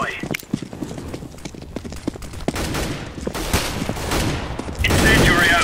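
Rapid bursts of decoy grenade gunfire in Counter-Strike: Global Offensive, crackling in irregular volleys over constant game noise and footsteps, with a louder burst near the end.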